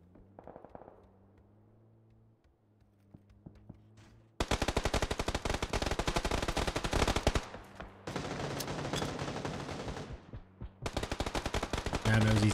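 Dense, continuous bursts of gunfire in the video game PUBG during a pro scrim match, rapid overlapping shots filling most of the clip after a quieter opening of faint in-game ambience.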